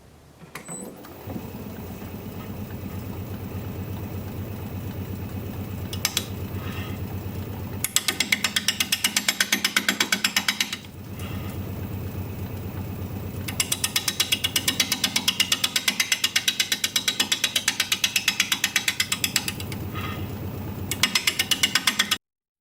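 A wood lathe spins spalted sycamore at 500 RPM while a 5/8 inch standard grind bowl gouge cuts, giving a steady loud whir and rough scraping that swells in repeated passes, with brief pauses between cuts and no talking.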